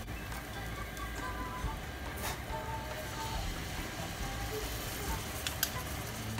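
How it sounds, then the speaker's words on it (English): Spam slices sizzling in a frying pan with sauce over lowered heat, a soft continuous crackle and hiss with occasional brief clatters, fairly quiet and close. "Lower the heat and let's add the sauce."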